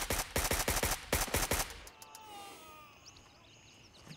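Automatic gunfire from a rifle in the shooter game Gray Zone Warfare, a loud rapid burst of about a dozen sharp shots, then a quiet tail with faint ambient game sounds.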